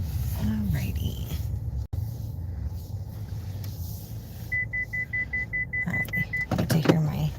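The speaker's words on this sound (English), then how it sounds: "I get to hear my car going crazy" Inside a car, electric power windows whine as their motors run, over a steady engine hum, then a repeating electronic beep chimes and a few louder clunks and tones sound near the end.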